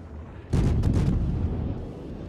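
A sudden booming blast of naval gunfire in World of Warships erupts, followed by a couple of quick sharp bursts and a long rumbling roar that slowly fades, loud and close.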